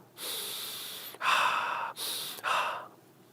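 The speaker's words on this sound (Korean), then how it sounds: "코로 들이쉬고 입으로 내쉬고." Lamaze breathing practice, a slow breath drawn in through the nose and then blown out through the mouth, repeated twice as close, soft airy inhales and exhales with no talking.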